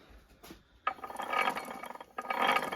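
Tractor gearbox bearing on an MTZ-80 turned by hand during repair, a soft clicking ratchet-like rolling in short bursts, close and quiet with no talk.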